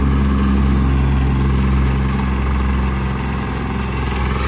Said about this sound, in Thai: ยิ่งเร่งเครื่องก็จะยิ่งเร็วขึ้นนะคะ